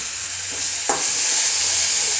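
Tomato masala with salt sautéing in oil in a pan for boiled-egg fried masala, giving a steady close sizzle and hiss with a brief stirring scrape near the middle, and no talk.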